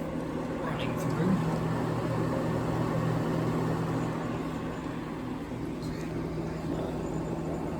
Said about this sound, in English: You can hear the refrigerant maybe running through.